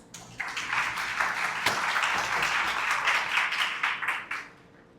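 An audience at a parish bicentennial event claps steadily for several seconds, a moderate wash of hands that fades out at the end.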